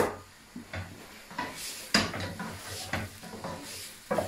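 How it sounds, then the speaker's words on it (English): A spoon stirs and mixes chopped tomato in a pot while making Hungarian goulash, producing soft, irregular scraping and light clinks in a quiet kitchen, close and fairly faint, with a gentle sizzle underneath. "this is tomato, chopped tomato. Just stirring and mixing properly."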